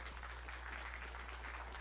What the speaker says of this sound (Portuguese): Uma salva de palmas, então.